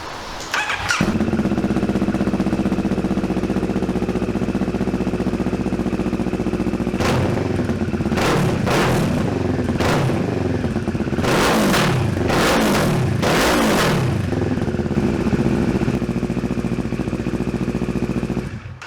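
A 2019 CF Moto WK650NK TT motorcycle with a fitted aftermarket exhaust starts up close by and settles into a loud, throbbing idle, broken by several sharp revs in the middle before it drops back to idle and shuts off.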